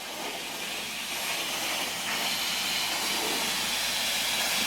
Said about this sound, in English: Can you guys see the steam coming out?